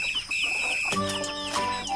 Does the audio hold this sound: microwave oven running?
no